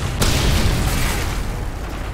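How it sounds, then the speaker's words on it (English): A Predator missile explosion in the video game Call of Duty MW3 sets off a loud, broad boom after a brief lead-in, then decays into a sustained rumbling roar lasting about two seconds. "Friendly Predator missile inbound."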